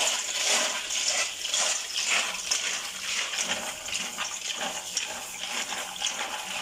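Running water while washing during cooking, an uneven splashing gush with faint clinks, fairly close and steady.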